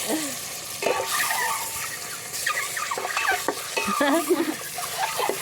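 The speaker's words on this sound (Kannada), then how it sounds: "ಈಗ ಮೊಟ್ಟೆ ಹಾಕ್ಲಾ ಹ್ಞೂ ಈಗ ಒಂದು ಸ್ವಲ್ಪ ಹಿಂಗೆ ಫ್ರೈ ಮಾಡ್ಕೋಬೇಕು" Eggs fry with salt and chili spice in a pan for an egg biryani, with scraping stirring and light sizzling running steadily throughout at close range and moderate level.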